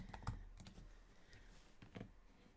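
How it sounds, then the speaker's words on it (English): A name is typed on a computer keyboard, heard as a quick, close series of key clicks with a brief pause in the middle over a low hum. "So I have her name typed out."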